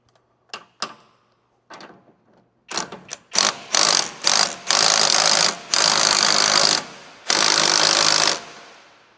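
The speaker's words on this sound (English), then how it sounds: "If you have a 24 millimeter socket on an impact gun," An impact gun with a 24 mm socket works a tie rod nut on a 2007-2011 Honda CR-V: a few short isolated bursts, then a run of rapid hammering rattles rising to long sustained loud bursts, close up with no talk.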